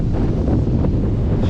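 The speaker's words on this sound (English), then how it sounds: "Wind is just gusting big time." Strong wind gusts on a canoe trip across rocky brooks in hot weather, a loud roaring buffet battering the microphone nonstop, with water washing faintly underneath.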